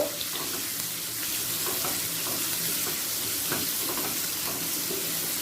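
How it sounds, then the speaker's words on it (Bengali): Two large chopped onions fry in oil with a dense, steady hiss and crackle, and a few soft stirring knocks break through. The sound is close and even, with no talking. "দুটো বড় সাইজের পেঁয়াজকে কেটে নিয়েছি কেটে তেলের সাথে হালকা লাল করে ভেজে নেব"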